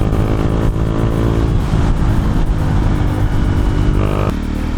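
A KTM Duke 390 engine drones loud and steady while riding on a twisty road, with a dense, rumbling exhaust note that dips slightly in pitch as it engine-brakes, with wind noise and no talk.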